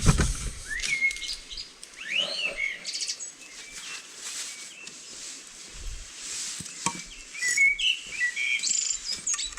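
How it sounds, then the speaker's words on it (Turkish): Several birds chirping and whistling close by, with varied tweets and trills coming in bursts over a quiet background. "Kuşlar çok güzel ötüyor."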